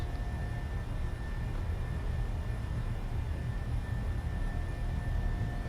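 Simulated airliner jet engines held at takeoff power in a flight simulator, a dense even roar with a low rumble and faint steady whining tones, constant throughout and with no speech.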